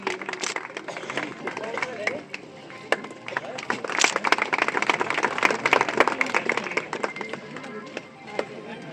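A crowd claps loudly at an outdoor ceremony in Uttarakhand marking the start of asphalting on the Sangliya-Nala motor road, greeting the block chief, Mrs. Prakeen Negi. The dense, steady clatter of many hands runs throughout, mixed with voices talking.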